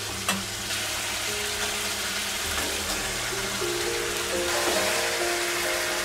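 Mutton with fried potato pieces sizzles and sputters steadily in a pan while being sautéed for biryani, a close, even frying hiss with occasional stirring scrapes.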